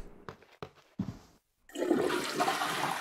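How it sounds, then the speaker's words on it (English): A toilet flushes in the video game Prey, starting with a few short clicks and knocks, then becoming a loud, sustained rush of swirling water that fills the rest of the clip. "Hell yeah, flush that toilet, bro!"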